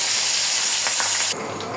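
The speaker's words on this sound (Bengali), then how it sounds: "সবগুলো মাছ দিয়ে দিলাম ভাজার জন্য, ভাজা হোক।" Fish dropped into hot oil for a fish curry gives a loud, bright hissing sizzle that cuts down sharply partway through and continues more softly.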